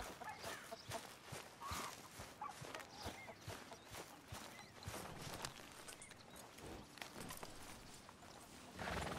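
Horse hooves clip-clop steadily on ground in Red Dead Redemption 2, a run of close, regular footfalls over a faint background bed, with a brief louder patch near the end.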